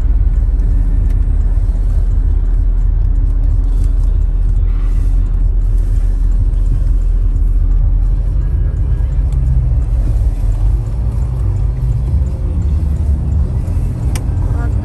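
Porsche Cayenne Turbo engine droning steadily from inside the cabin while driving, a continuous low rumble with road noise and no talk.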